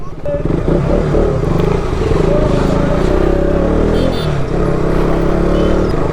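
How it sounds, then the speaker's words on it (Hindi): A motorcycle rides loud and close along a road in Shopian, Kashmir, its steady engine drone and wind rush filling the whole stretch, with the rider speaking over the noise. "अभी मैं जा रहा हूँ इवनिंग राइड पे।"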